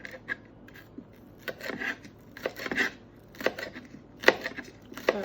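Knife chopping cucumber for a quick pickle without a cutting board, a series of irregular, sharp cutting taps at close range, alone with no talk.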